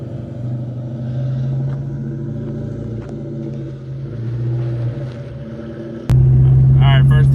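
A car fitted with a steering angle kit idling and revving on a test run, a low engine rumble rising and falling, then jumping sharply louder near the end.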